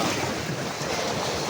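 Sea waves washing on a shore on a clear morning, a steady broadband rush of surf mixed with wind buffeting the microphone, continuous and fairly close, no voices.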